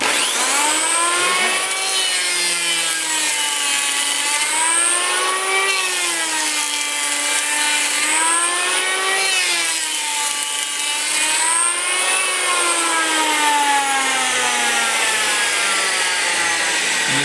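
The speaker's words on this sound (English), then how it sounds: "take a hickory tree, take a limb, cut her down, take a plane" A plane shaves a cut hickory limb into sawdust, giving a loud, continuous machine whine that rises and falls in repeated strokes as the cut loads and eases, with no talking.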